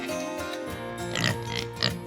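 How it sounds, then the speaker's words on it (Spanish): A cartoon pig oinks in a short run of nasal grunts, two louder snorts standing out near the end, set over a light music bed. "y los cerdos"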